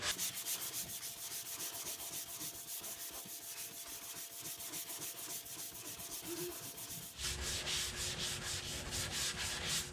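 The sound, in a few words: block sanding primer on car body panel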